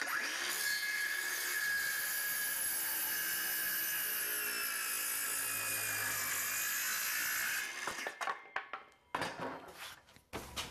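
A power saw cuts the fascia end of a wooden roof rafter, a loud, steady high whine for several seconds before stopping, followed by scattered knocks and handling sounds.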